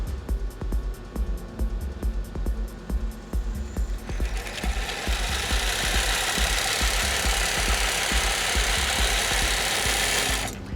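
A Merrow industrial shell stitch sewing machine sewing denim hammers out a fast, heavy mechanical rhythm that shifts into a louder, denser hissing clatter as it speeds up, close and continuous without talk.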